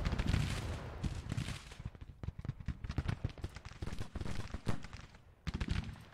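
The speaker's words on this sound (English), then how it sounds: "Cannon opening up." Cannon fire from the Civil War strategy game Grand Tactician: The Civil War rolls on in dense, overlapping booms and crackling volleys, loud and nearly continuous for several seconds.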